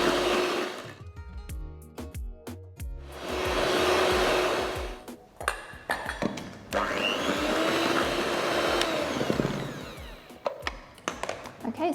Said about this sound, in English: beating on medium speed for a couple of minutes in between each addition until it's nice and foamy